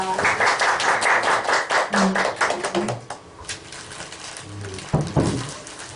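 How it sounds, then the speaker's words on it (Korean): An audience at a lecture on Earth jurisprudence claps for a professor about to present, a burst of individual claps that thins out and fades after a few seconds, with a few scattered claps near the end. "큰 박수 부탁드리겠습니다"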